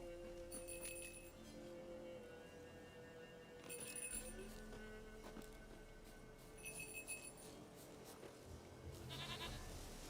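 A goat bleats in the video game The Witcher 3: Wild Hunt, with a couple of bell-like clinks and several bleating calls rising over a steady ambient background.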